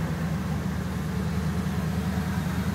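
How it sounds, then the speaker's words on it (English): Electric cooling fans running in a restored 1972 Chevrolet Corvette C3, a steady low whir and hum holding at an even level throughout, with no talking. "you just heard the cooling fans run there for a second"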